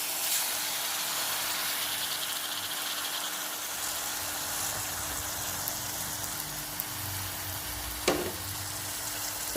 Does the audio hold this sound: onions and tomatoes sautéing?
yes